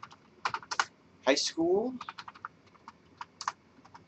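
Typing on a computer keyboard while searching a library database for secondary-level science education, heard as short bursts of key clicks, near and moderate, with a person speaking briefly in the middle.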